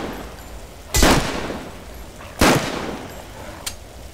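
Gunfire in The Last Stand Aftermath video game: two sharp, loud shots about a second and a half apart, then a fainter third crack, each ringing out alone against a quiet background.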